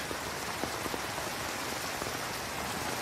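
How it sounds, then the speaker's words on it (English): Steady rain in a TV episode scene falls on surfaces, a dense continuous hiss with scattered droplet taps, even and moderately loud throughout with no voices. "I love that scene between Mark and Fornell under the rain and the dog"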